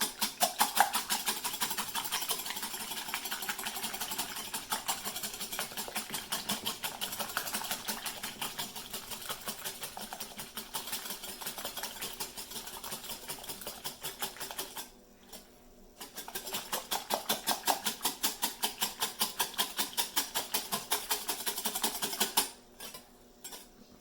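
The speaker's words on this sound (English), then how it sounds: "I'm going to whisk these for about another 30 seconds." A whisk beats eggs for scrambled eggs in a bowl, a fast, steady clatter of metal against the bowl that runs continuously, breaks off briefly, then resumes close up with no voices.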